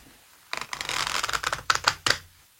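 A deck of oracle cards is cut and shuffled by hand, a close papery riffle of flicking cards followed by a few sharp slaps as the stacks come together, with no talk.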